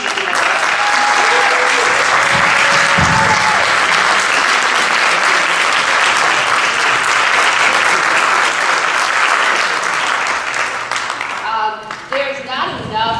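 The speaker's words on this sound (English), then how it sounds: "Yes, and applause." A board of education meeting crowd claps in sustained, loud applause filling the room, with a few voices underneath, tapering slightly toward the end.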